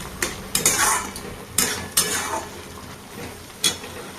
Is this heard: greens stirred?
yes